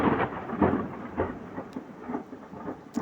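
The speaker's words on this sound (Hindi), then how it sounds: "आज बारिश बहुत ज़्यादा लगी है इधर" Heavy rain falls in a dense, steady roar with low rumbles of thunder rolling through it, loud and close.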